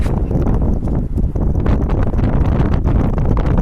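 Strong wind at sea buffets the microphone on an overnight fishing trip, a loud, constant roaring rush with gusty thumps and no voices.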